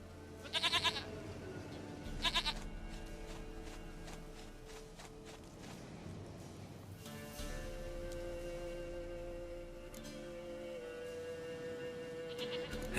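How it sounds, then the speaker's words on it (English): A goat bleats in The Witcher video game, two short loud bleats early on, then a steady backdrop of game music and ambient sound with faint footsteps. "Goat of mine, dearest,"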